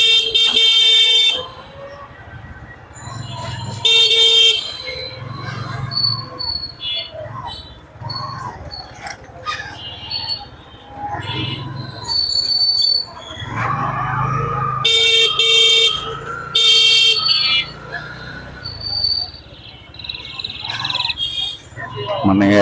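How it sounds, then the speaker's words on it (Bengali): Car horns honk repeatedly in road traffic where Tesla cars block the lane and overtake, loud bursts of several long blasts spread through the stretch over engine and road noise, with a person talking in between. "এতগুলা হর্ন দিলাম, সে শুনে, কিন্তু তার এটা নিয়ে কোনো হেডেক নাই।"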